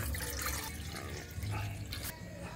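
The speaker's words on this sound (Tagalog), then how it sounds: "Lagyan na po natin ng tubig." Water poured from a tap or container into a cooking pot for tinola, a steady splashing, trickling stream heard close up with no talking.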